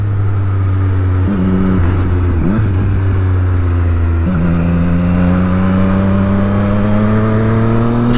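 A 2018–2019 Triumph Street Triple R motorcycle with a lowered ride height revs along the road, its engine note loud and close. It holds a steady drone, dips and climbs through a few gear changes, then rises steadily, with no talking.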